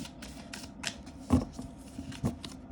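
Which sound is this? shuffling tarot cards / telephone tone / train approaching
shuffling tarot cards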